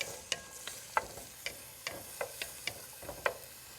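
Vegetables frying in a little oil for an aromatic Cambodian curry are stirred in a pan, about a dozen soft scraping and clicking strokes at a steady, unhurried pace over a faint sizzle, close and quiet.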